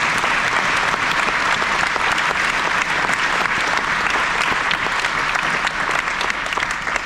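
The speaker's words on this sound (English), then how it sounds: "let's give them all a round of applause" Audience applause at a Wreaths Across America event honoring the convoy, now in its 33rd year, is a dense, steady round of clapping that holds at full strength for about seven seconds.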